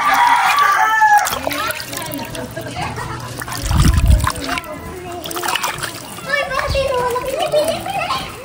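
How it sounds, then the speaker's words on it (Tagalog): Water splashes as tilapia are washed outdoors, irregular sloshing and splattering near the listener, with children's voices and talk throughout and chickens or roosters sounding in the background. "lilinisan at uhugasan na po ni Papa yung mga tilapia"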